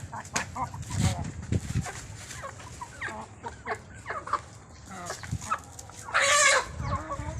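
Farm chickens cluck and squawk at feeding time, the calls scattered and fairly close, with one louder burst of calling near the end.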